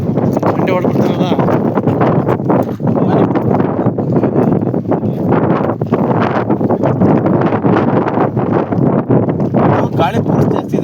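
Strong wind buffets the microphone on the Nandi Hills hilltop at a paragliding site, a loud continuous roar and rumble throughout, with voices talking underneath.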